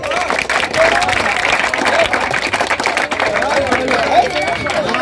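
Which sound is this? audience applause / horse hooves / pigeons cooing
audience applause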